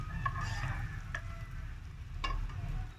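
Garlic frying in butter in a pot for cabbage soup, a steady close sizzle with a few sharp utensil clicks against the pan, no talking.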